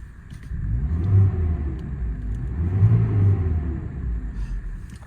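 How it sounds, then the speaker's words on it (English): A 2003 Kia Sportage 2.0 XSE 4x4 engine runs close by, its steady low rumble swelling in two rev blips, around one second and around three seconds, before easing back to idle, with no voices. "I'm going to start it up quickly so you can hear the engine."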